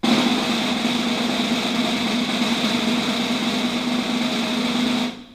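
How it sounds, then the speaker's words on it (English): A buzz roll on a snare drum holds as a continuous, dense rattling hiss at steady loudness, close and alone, for about five seconds before cutting off. "that was one of the best buzz rolls I think I've ever played"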